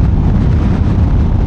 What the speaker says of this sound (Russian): И ветер очень сильный и порывистый.